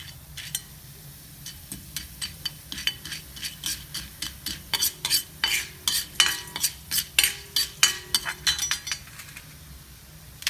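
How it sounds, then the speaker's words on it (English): Lentils frying in a pan while a metal spoon stirs and scrapes, producing a steady series of close, bright clinks and knocks that grow denser and louder midway, with a faint frying hiss beneath. "you fry them till they become a little bit brown"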